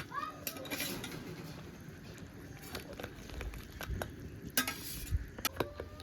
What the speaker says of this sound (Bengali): দেখুন ঝোলটা এখনো ফুটছে।